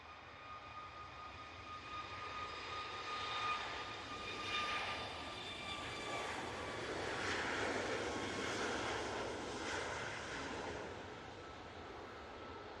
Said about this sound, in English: we do have the TUI off to Corfu now. Should be coming through the shot any second